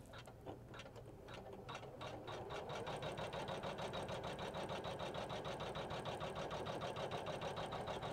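A Janome 500e embroidery machine sews a tack-down stitch, a rapid steady mechanical chatter with fast repeating needle strokes that builds within the first couple of seconds and then runs loud and even to the end.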